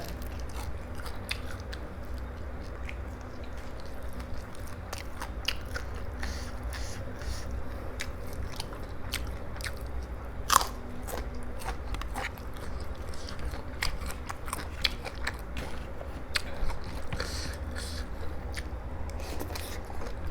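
Someone bites and chews crispy pork cheek close to the mic, with repeated crunchy crackles and moist chewing sounds over quiet background, and a little talk.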